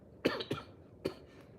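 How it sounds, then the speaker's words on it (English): Three short coughs come close together, two quick ones then a third after a pause, fairly faint and close, with no talk. "Can't stop coughing on low key."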